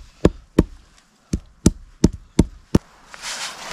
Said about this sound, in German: Die Wurzeln noch ein bisschen weich klopfen.